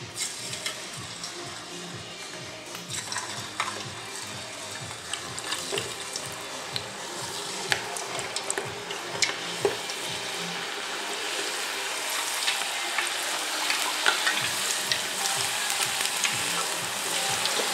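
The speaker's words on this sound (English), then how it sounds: "got the oil heating up, and we're going to be doing these in batches" Batches of homemade potato chips frying in hot oil, a steady broadband sizzle and crackle running throughout with small pops and bursts, close and fairly loud, with no voices.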